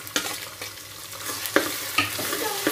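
Green chillies and ginger-garlic paste sautéing in a pan for tapioca biryani, a soft steady sizzle broken by several sharp scraping stirs of a spoon against the pan.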